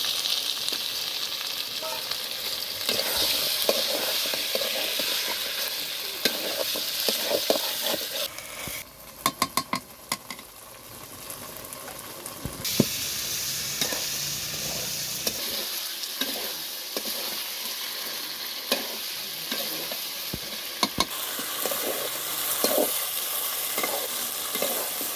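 Chicken feet and potatoes are sautéed in a pan, producing a loud, sustained sizzle with frequent stirring scrapes and clinks. There is a brief quieter stretch midway before the frying noise returns, and no voices.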